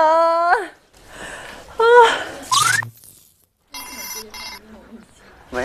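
A telephone rings during a variety game show, its short electronic tone bursts coming in uneven spurts mixed with lively voices and squeaky exclamations.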